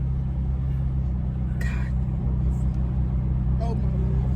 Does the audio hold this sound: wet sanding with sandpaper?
no